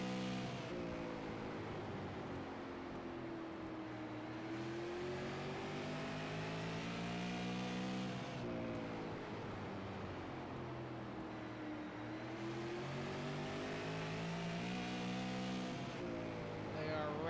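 Super late model stock cars race on an oval, with a loud, steady roar of engines. The pitch rises and falls in repeated waves as the cars sweep past, near and continuous throughout.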